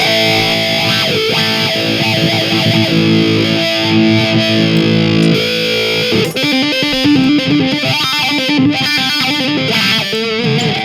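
A heavily distorted electric guitar through an Amplitube 5 amp simulation plays sustained chords and then choppy riffs, loud and saturated with a buzzing amp tone, no voices.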